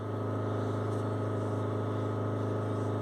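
A Range Rover Evoque engine is held at steady high revs during exhaust filter cleaning, giving a constant droning hum with no change in pitch or loudness.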